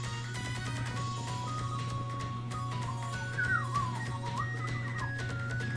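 A person attempts to whistle, producing a faint, wavering, breathy tone that slides up and down for a couple of seconds over steady Secret of Mana game music.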